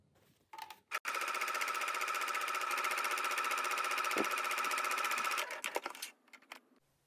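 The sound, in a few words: sewing machine sewing basting stitches on skirt edge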